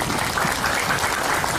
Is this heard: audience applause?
yes